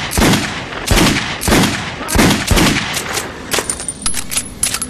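Loud, close bursts of gunfire in the video game Metro Last Light, several rapid volleys in a steady rhythm, then a few scattered shots with a high electronic tone.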